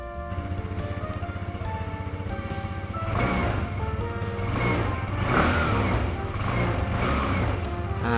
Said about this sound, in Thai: เดี๋ยวมาฟังเสียงท่อกันเลยฮะ